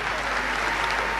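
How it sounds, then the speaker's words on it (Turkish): Crowd in the stands at a basketball tribute event clapping, a brief loud continuous burst of dense applause. "Kendi içinde bir alkış rica ediyorum."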